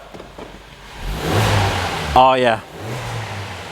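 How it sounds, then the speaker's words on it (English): A repaired car engine, previously a crank-no-start fixed with a new relay, idles then revs up in a sharp rising burst near the mic before dropping back to idle, with a brief spoken exclamation over the rev. "Let's rev it up."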